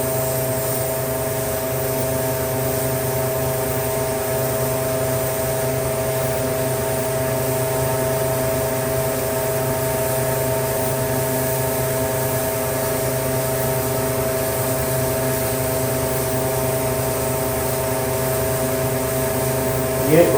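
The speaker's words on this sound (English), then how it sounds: "sorry for the exhaust fan noise, but I've got to run it for a while" An exhaust fan in a workshop used for airbrushing runs without pause, giving a steady, even drone with a low hum that stays constant from start to finish.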